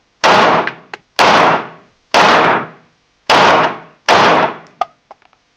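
Five loud, sharp pistol shots from a Springfield Echelon fired at a paper target, evenly spaced about a second apart and close up, each ringing briefly, with faint clicks after the last.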